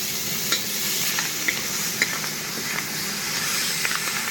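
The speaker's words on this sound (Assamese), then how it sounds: "মিঠা পালেং আৰু আলু সবজিটো ধুনীয়াকৈ ফ্ৰাই কৰি লওঁ" Spinach and potato with onion frying in a pan, a steady close sizzle with scattered stirring scrapes and small pops throughout, no voices.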